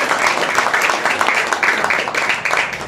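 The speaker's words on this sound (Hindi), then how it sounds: "जोरदार तालियों" A congregation at a Sunday deliverance church meeting bursts into loud, sustained applause, many hands clapping densely and close, with a slight murmur of voices mixed in.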